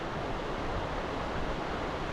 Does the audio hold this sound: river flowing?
yes